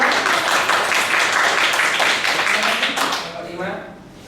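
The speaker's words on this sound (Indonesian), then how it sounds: "Oke, kita tepuk tangan untuk Bapak" A group claps together in dense applause, steady and fairly loud, then tapering off and fading toward the end.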